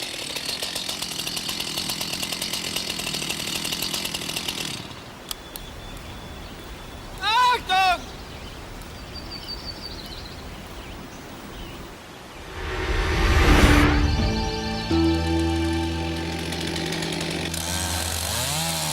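Chainsaw running at a steady high roar while making the first felling cut into a standing tree, then dropping off; later bursts of revving and other outdoor noise, with a voice speaking over parts.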